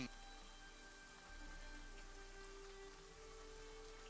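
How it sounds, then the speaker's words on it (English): Rain falling outside, a steady soft hiss of drops on surfaces that stays quiet and even throughout. "That rain sound nice out there."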